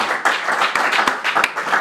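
Audience clapping at a televised quiz show final, a dense patter of hands kept up for under two seconds at moderate loudness, with no voices over it.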